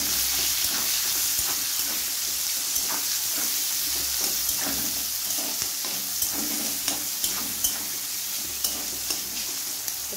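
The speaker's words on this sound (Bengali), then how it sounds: "এবার এই টমেটো আর পেঁয়াজটাকে কড়াইতে দিয়ে দেবো।" Chopped tomato and onion frying in a wok make a steady crackling sizzle, with sharp spatula taps and scrapes against the pan scattered throughout.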